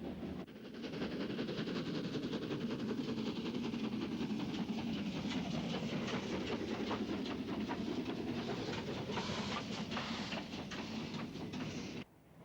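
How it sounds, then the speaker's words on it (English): Archive film of the large LNER Beyer Garratt steam locomotive number 2395 on the move, a steady loud rumble with rapid rhythmic clatter running continuously for about eleven seconds before cutting off. "Britain did, however, have an equally large Beyer Garrett, LNER number 2395, seen here in a rare film clip."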